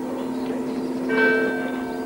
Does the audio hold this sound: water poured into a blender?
no